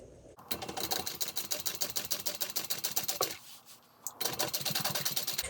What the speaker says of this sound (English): we're top stitching through our exterior